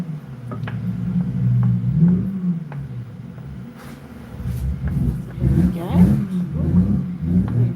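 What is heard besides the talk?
car revving outside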